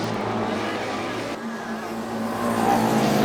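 A Formula Student race car runs on track at FSG 2019, a continuous engine drone holding steady and then swelling louder toward the end, heard from a moderate distance.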